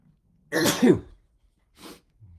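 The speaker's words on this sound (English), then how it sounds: "So, I'm also going to sneeze." A single loud, sharp sneeze, followed by a softer breath or sniff and a faint rustle in an otherwise quiet room.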